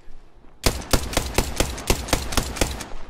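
Gunfire in Apex Legends, a sudden burst of about ten evenly spaced sharp shots in quick succession, close and punchy, after a brief quiet lead-in.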